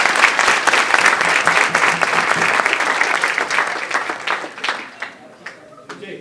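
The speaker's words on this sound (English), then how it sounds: "Let's give them all a round of applause." Audience at a Lincoln International High School event in Minneapolis applauds its guests, a dense, steady clapping that fades and thins toward the end, with a few scattered claps trailing off.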